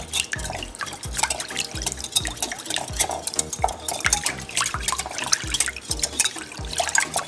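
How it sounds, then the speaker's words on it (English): Wet ingredients with buttermilk being whisked together for a lemon pudding cake, a busy rhythmic clatter of whisk against bowl with splashy liquid sounds, close and continuous. "So that's all of my wet ingredients, and now I'm going to whisk this together."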